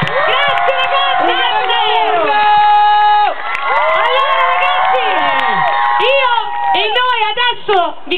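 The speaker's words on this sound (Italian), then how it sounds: "Fatevi un applauso, vi prego." A live concert audience cheers loudly, with shrill whoops, shouts and many children's voices forming a dense, continuous crowd roar after the performers' farewells.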